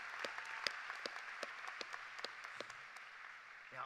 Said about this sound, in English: please join me in a round of applause for these amazing graduates